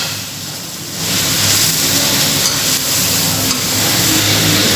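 Minced qeema sizzles and fries in a hot pan, a steady close-up crackling hiss that swells after the first second and holds evenly, with no talking.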